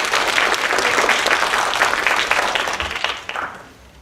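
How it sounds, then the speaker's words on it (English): An awards-ceremony audience claps for youth competition winners, steady dense applause filling the room, then tapering off near the end. "Let's give our winners one last round of applause."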